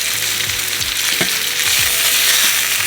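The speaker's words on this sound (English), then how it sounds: "So we want to sear this for about 5 to 6 minutes" Steak searing in a hot pan, a loud, steady close-up sizzle with a few soft scraping or shifting sounds, and no talking.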